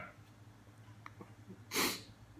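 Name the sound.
sneeze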